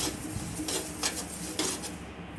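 Curry leaves dry roasting in a pan with no oil, with a continuous low sizzle under repeated scraping and stirring strokes of a utensil against the metal, heard close up and alone.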